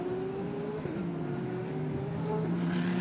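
DTM race cars at the Norisring street circuit powering through a turn, a steady layered engine drone from several cars with rising and falling pitch, continuous and fairly distant, with no talk.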